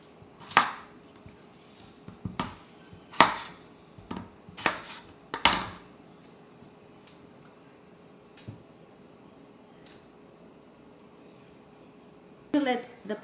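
A knife chops potatoes for beef stew on a cutting board, about half a dozen sharp, separate thuds spaced a second or so apart, then a few faint knocks and a final clatter, with a voice talking quietly over it.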